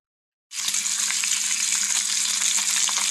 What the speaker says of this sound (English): it's sizzling bacon